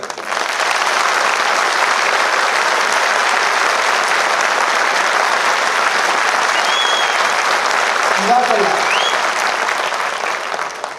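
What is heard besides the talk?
audience clapping loudly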